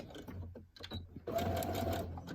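Sewing machine stitching fabric, with a few soft clicks and handling noises before it starts, then a close, steady mechanical whir of rapid stitching over the last second.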